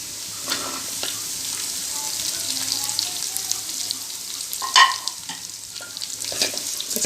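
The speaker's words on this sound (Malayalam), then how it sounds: "ചെമ്മീനിട്ടതിന് ശേഷം ഒന്നുകൂടെ നല്ലോണം വഴറ്റി കൊടുക്കുക." Prawns sauté in a pan for prawn pickle, giving a steady close sizzle of frying with occasional scraping stirs and a brief clink of utensil on the pan.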